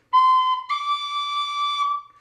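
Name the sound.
pennywhistle note played with no fingers on the holes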